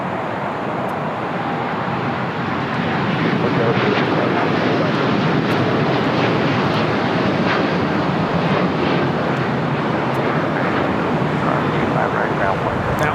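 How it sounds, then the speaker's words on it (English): An Air Tahiti Nui Boeing 787-9 Dreamliner takes off from LAX bound for Paris, its jet roar building after a couple of seconds into a sustained loud rumble, with wind buffeting and faint voices in the background. "That was Air Tahiti Nui Flight 8 taking off to Paris on a 787-9 Dreamliner."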